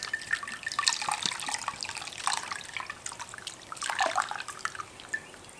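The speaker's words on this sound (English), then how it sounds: "now I'm going to rinse out the inside." Bottled water runs into and trickles through a Swiss Army knife in a garage, giving a soft, continuous run of splashes and drips at close range.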